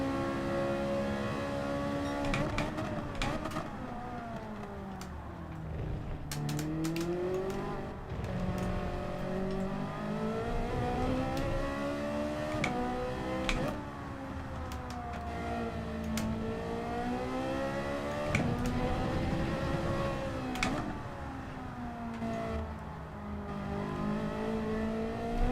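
A Group 3 race car engine in Gran Turismo 7 at Fuji International Speedway, revving up and down through gears, whining tones sweeping repeatedly over about twenty-five seconds, loud and continuous with no talk.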